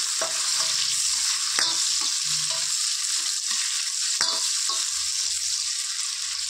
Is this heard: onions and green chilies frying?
yes